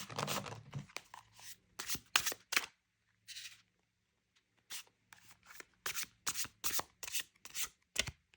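Tarot cards being shuffled by hand, a series of quick riffling and sliding bursts with a short pause midway, close and crisp, quiet room, no talk.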